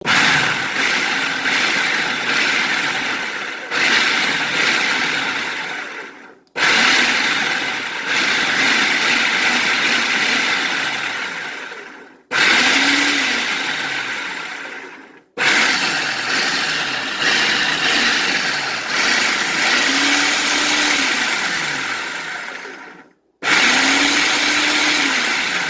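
A countertop blender pulses avocado for a keto recipe in short bursts of loud motor whir, each lasting a few seconds and separated by brief stops, with the pitch sagging as each pulse winds down.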